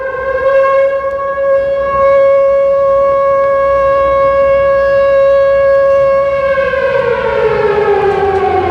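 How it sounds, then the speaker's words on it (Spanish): A civil defense siren on the Edificio Monumental in San José, Costa Rica wails loudly and steadily for several seconds, then begins to wind down in pitch near the end. "la sirena del edificio monumental se prendía y sonaba entonces de esta forma"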